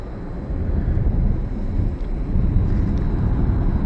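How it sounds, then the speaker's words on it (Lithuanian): Steady wind buffets the open deck of a ship out on the open sea on an evening crossing, a continuous broadband rush that holds at even loudness throughout with no voices. "Čia vėjelis prapuč, neblogai."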